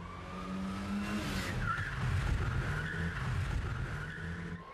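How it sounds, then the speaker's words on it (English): A car slides hard through a tight 180-degree J-turn at high speed, tyres squealing and skidding over a steady engine roar that swells in the middle and stays loud throughout, with no voices. "Russ will attempt the remarkable J-turn power slide, a manoeuvre that involves spinning a car through 180 degrees in a very confined space at high speed"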